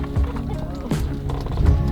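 Horses pulling a covered wagon along the Oregon Trail clip-clop in a steady rhythm close by, with low rumbling and voices talking over the hooves.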